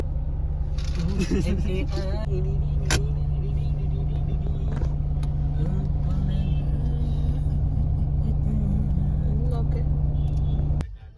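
A car driving on a highway from Durgapur to Ranchi, with heavy truck traffic, gives a steady loud engine and road rumble throughout, with a voice speaking over it.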